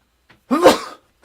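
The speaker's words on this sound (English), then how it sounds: "I'm gonna sneeze." A single close, sharp sneeze from a person indoors, a brief intake followed by a loud burst, with silence around it.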